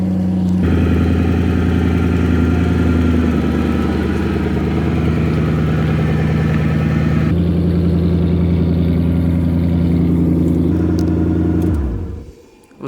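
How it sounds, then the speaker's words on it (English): A Mazda Miata's engine runs close by in a garage as the car is moved, a loud steady idle with slight shifts in pitch that cuts off abruptly near the end. "Adam's moving a Miata so we can move 86 here"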